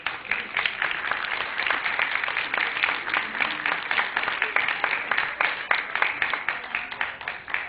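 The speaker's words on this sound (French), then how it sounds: "Donc voilà, quand on peut applaudir les acteurs." Theatre audience applauding actors, including child performers, with continuous crowded clapping that pulses in rhythmic waves, steady and fairly close throughout.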